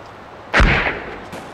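A grenade launcher fires in the video game Arma 3: a single heavy, booming launch blast with a short rumbling tail, loud and close against quiet background noise.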